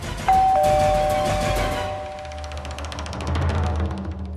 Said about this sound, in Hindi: घंटी बज गई है शावली थी, क्या पता कोई चमत्कार ही हो।